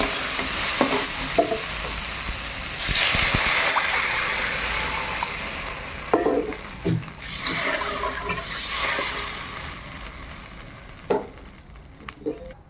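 Water poured onto potatoes frying with spices in a pan, a loud burst of hissing sizzle and bubbling, close, with stirring scrapes and knocks, the sizzle swelling and fading in waves.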